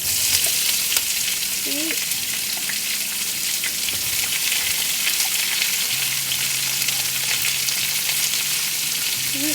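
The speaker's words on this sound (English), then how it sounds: "So we're going to saute this so the onions turn soft and translucent." Onions sautéing in a pan for chicken chukka, a steady close sizzle with stirring scrapes running throughout, and a brief word spoken over it.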